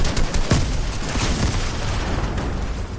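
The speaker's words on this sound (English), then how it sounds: "Oh, grenades everywhere." Grenades going off repeatedly in the Fortnite video game, a dense barrage of loud booms and bursts stacked over one another, one sharp blast standing out early amid continuous rumbling chaos.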